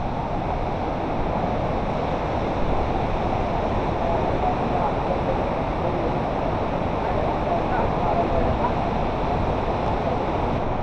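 Kumbhe Waterfall in Raigad district, heard from its top point where the water drops away near a tunnel, roars as a dense, unbroken rush of falling water, loud and steady throughout.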